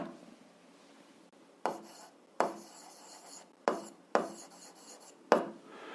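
Pen scratching out an equation on paper in a series of about five distinct strokes and pauses, close and crisp in a quiet room, with no talking over it.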